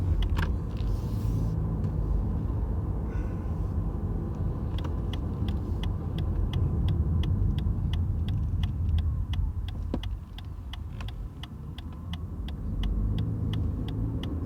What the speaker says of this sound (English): it switched from electric to petrol, driving 50 kilometers an hour